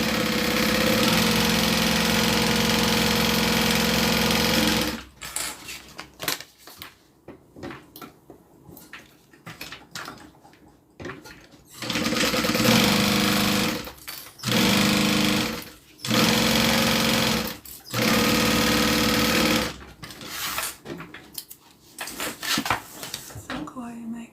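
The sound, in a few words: sewing machine stitching a bag band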